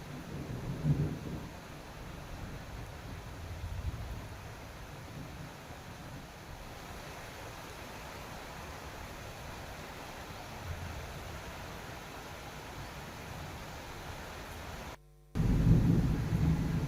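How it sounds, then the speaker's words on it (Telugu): Heavy rain pours down over Hyderabad streets with distant thunder rumbling, a steady broad hiss of rainfall that ends with a sudden low boom. "హైదరాబాద్లో భారీ వర్షం కురుస్తోంది"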